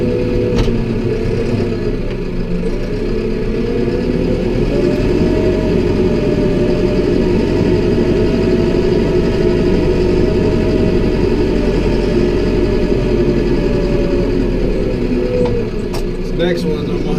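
A 100 hp yard tractor weighing over 11,000 pounds idles steadily and close by, a continuous low mechanical rumble with a slight rise in pitch midway, running on its own without voices.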